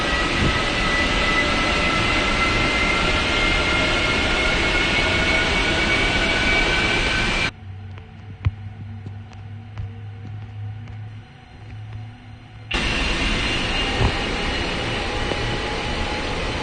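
Airbus A320 jet engine spooling up in the Aerofly FS 2023 flight simulator, a loud steady roar with rising whine tones, interrupted midway by a quieter low cockpit hum before the full engine noise returns.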